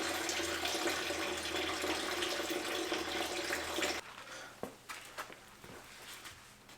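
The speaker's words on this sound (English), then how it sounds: "So that indeed was the coolant. So it was flowing really slow" Coolant from a 2.0L MK4 Golf engine pours out in a steady splashing stream for about four seconds, then trickles and drips faintly with a few small splashes.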